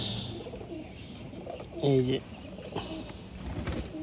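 Pigeons coo in a loft while being given water, a short burst of low cooing standing out near the middle over soft background bird sounds, with a person speaking briefly.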